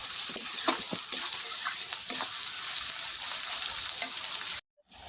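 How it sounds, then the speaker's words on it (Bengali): Onions frying with salt in a pan: a loud, continuous bright sizzle with occasional stirring scrapes, cutting off abruptly near the end. "পেঁয়াজটা ভালো করে লাল লাল করে ভেজে নেব।"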